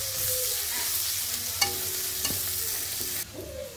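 Chopped onions sizzle in oil in a wok (kadai) while a spatula stirs them, giving a steady frying hiss broken by a few scraping clicks; the sizzle drops away abruptly near the end.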